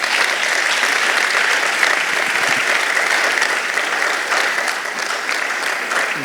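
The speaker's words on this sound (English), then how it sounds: "Can we actually have a round of applause for two Canadian heroes," An audience at a panel discussion applauds steadily and warmly, a dense, continuous wash of clapping that holds for several seconds with no speech over it.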